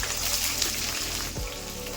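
Chopped onions with fennel seeds, fenugreek and spices sizzle and fry steadily in hot oil in a pan for a brinjal curry, a close, continuous crackle with a brief stir partway through.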